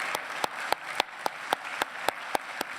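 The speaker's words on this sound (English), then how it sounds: "I don't even need to ask you to applaud him. It just comes naturally." Audience applause at an engineering talk: a soft wash of clapping underlies sharper, evenly spaced claps from one nearby pair of hands, beating out a steady rhythm about three times per second.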